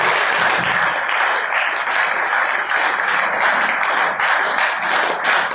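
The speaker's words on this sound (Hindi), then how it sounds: "एक बार आप तालियां बजा लें" Dense, steady applause from a seated audience at an RCM business seminar fills the whole stretch, loud and close with no pauses.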